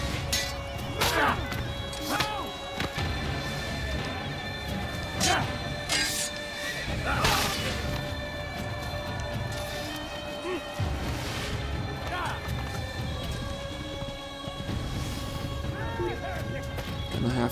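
Horse neighing and whinnying from the Assassin's Creed video game, set amid loud combat crashes and thwacks, with someone talking over the game sounds throughout.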